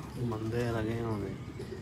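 A Lahore champion pigeon cooing, a low throaty warbling coo rising and falling over about two seconds, close and fairly loud.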